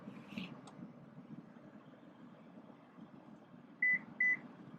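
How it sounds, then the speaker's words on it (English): Two short electronic confirmation beeps from a Lexus LX 600 as a power seat operation completes, sounding near the end over a quiet steady cabin hum. "When you hear the 2 beeps, the operation is complete."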